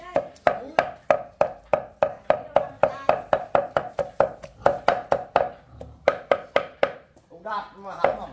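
A knife chops food on a board, probably for Vietnamese pig blood pudding, in a steady, fast run of close, crisp strikes with a short pause. A voice speaks briefly near the end.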